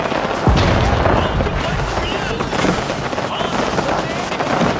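Booming cannon fire in a hard-difficulty one-versus-seven battle against the AI in a strategy video game, dense rolling blasts with a sharp hit near the start, continuing under excited talk.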